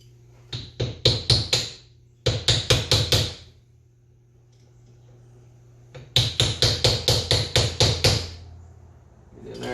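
A flathead screwdriver or punch is hammered against metal lock tabs to bend them off the cylinder head bolts of a 2010 Yamaha Big Bear 400 ATV engine. Three close, loud bursts of rapid, even metallic taps are separated by short pauses.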